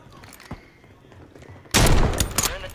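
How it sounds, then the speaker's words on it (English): Gunfire in the Warzone 3 battle royale game, a few faint distant shots followed by a sudden loud close burst of sniper rifle fire with sharp repeated cracks. "That was a headshot snipe I might have pushed."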